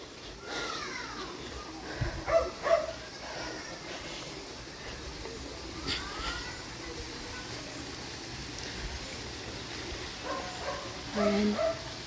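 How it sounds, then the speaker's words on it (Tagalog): Several dogs bark intermittently at a distance in Marikina, Philippines, short yaps scattered over a muddy outdoor ambience with faint voices. "Tumatahol na yung mga aso."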